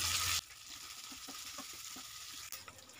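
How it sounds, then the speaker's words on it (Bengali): Gobindobhog rice fries in a pan with spices and Kashmiri chilli powder while being stirred, a quiet crackling sizzle with light scraping, opening and closing with louder bursts of hiss. "গোবিন্দভোগ চালটাকে খুব ভালো করে মশলার সাথে ভেজে নিতে হবে"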